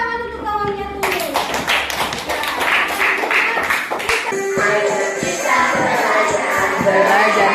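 Classroom applause for a student named Tulus during a lesson on the water cycle, quick claps and taps from a group of children mixed with voices and bright tonal sounds, steady and fairly loud throughout.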